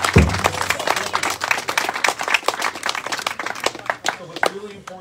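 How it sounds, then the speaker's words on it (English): A crowd at an artists' open house celebration at Madeline Island Museum applauds Ojibwe artists with crisp, distinct claps that start strong and gradually thin out, with voices murmuring underneath. "let's give them a round of applause again"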